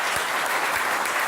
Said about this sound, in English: Quick clap it up, real quick for that one.